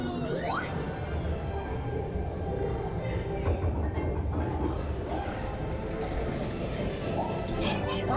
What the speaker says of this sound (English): let's stop that runaway train.